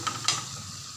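Turmeric, chilli and black pepper powders being stirred in a frying pan, a brief sizzle with two quick scraping strokes up close, no talking.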